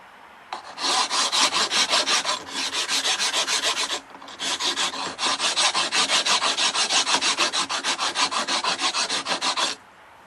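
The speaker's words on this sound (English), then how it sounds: "And like the other filing, never stay in one spot too long" A stone Decora rocker switch plate filed by hand, giving loud, close rhythmic rasping strokes in quick succession with short pauses, and no voices.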